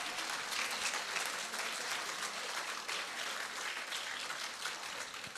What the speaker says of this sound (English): Let's give the infants another round of applause.